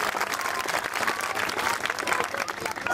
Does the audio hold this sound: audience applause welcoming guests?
yes